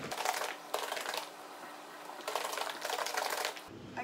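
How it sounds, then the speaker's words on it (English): Pancake batter is shaken hard in a plastic shaker bottle, giving bursts of rapid rattling and sloshing that come in two main rounds with a short lull between them. "we've added all the water, so I guess now it's time to really shake it."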